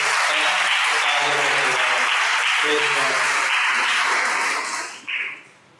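A congregation at a Sunday evening Hindi church service applauds steadily and densely for about five seconds before the clapping dies away, with a voice faintly audible underneath.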